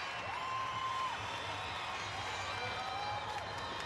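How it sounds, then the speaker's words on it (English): A crowd at a men's gymnastics all-around final at the 2007 Pan-American Games cheers and whistles in a continuous roar, with sharp whistles rising above the steady din. "Your home country's cheering for you like that."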